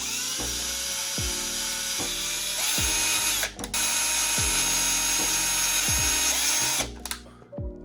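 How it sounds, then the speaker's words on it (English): Power drill boring a row of holes in a GPStar Neutrona Wand kit, each hole a rising whine that bogs down as the bit bites through, repeated about eight times in quick succession, loud and close. "Actually, I'm just keep drilling holes along this path."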